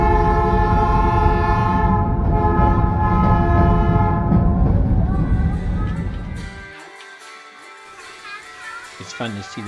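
A train rumbles loudly close by, its horn sounding in long sustained tones before the noise fades away, leaving quieter scattered sounds.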